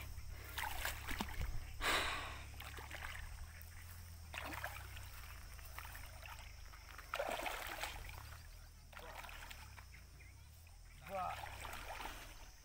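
Someone wades through knee-deep water, with intermittent splashing surges separated by quieter stretches, heard up close alongside occasional talk.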